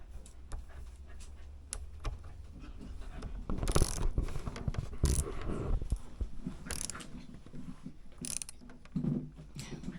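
Screw being tightened on an Arrma Outcast RC car during a repair: small clicking, ratcheting and scraping mechanical sounds up close, uneven and intermittent, with a few louder handling knocks.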